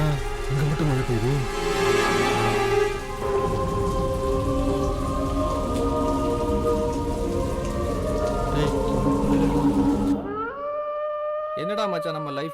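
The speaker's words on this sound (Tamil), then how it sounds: "என்னடா இங்க மட்டும் மழை பெய்யுது" Steady rain hisses and patters as people talk over it, with low rumbles underneath. The downpour stays loud and constant for about ten seconds, then stops abruptly while the voices carry on.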